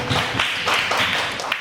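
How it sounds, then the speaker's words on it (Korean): A church congregation at a Sunday youth service applauds, a brief burst of steady clapping from many hands at moderate distance, rising in pulses and fading near the end. "우리 하나님께 큰 박수로 영광 올려드릴까요?"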